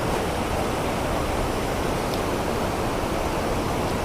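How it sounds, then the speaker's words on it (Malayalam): A stream of water flowing between black rocks gives a constant, dense rushing roar, close and steady throughout with no voices. "കരിമ്പാറ കൂട്ടങ്ങളുടെ ഇടയിലൂടെയാണ് ഈ വെള്ളം ഒഴുകുന്നത്."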